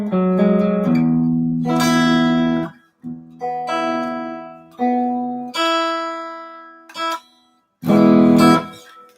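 Pairs of open strings on a guitar ring out together in a few separate strums, each dyad sustaining with rich overtones before the next, played alone and close with no talking.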